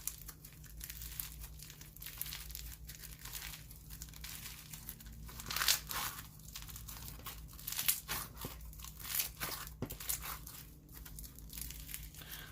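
Crunchy slime full of foam beads is squeezed and worked by hand, giving a long run of close crinkling, crackling crunches and small pops in irregular bursts with no talk.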